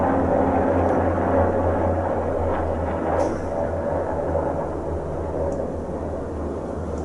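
A helicopter passing overhead, a loud steady rotor and engine drone that fills the whole stretch and slowly fades slightly, heard alone without talk.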